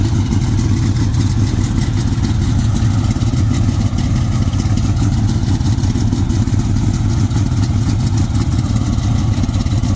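A 1969 Chevrolet Nova small-block with a 4-speed and 355 gears idles just after starting, a loud, steady, throbbing low rumble with an even lope that carries on unbroken throughout.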